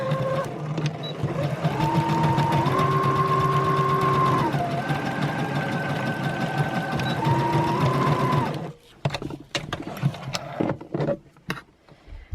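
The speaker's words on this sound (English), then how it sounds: "Now if you want to, you can go ahead and sew this part." A sewing machine stitching ribbon onto socks, a loud, close, continuous mechanical whir that shifts pitch as the speed changes, then stops and gives way to clicks and handling noises.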